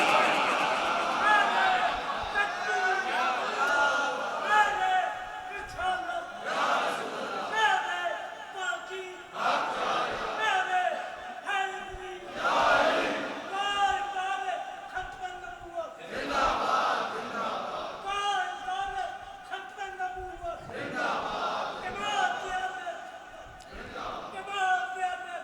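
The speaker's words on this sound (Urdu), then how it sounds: "اچھا آپ نے نا صرف دو نعرے لگا لیں" A crowd at a religious sermon chants slogans in loud, rhythmic, repeated bursts of many voices calling together, with a preacher speaking between the chants.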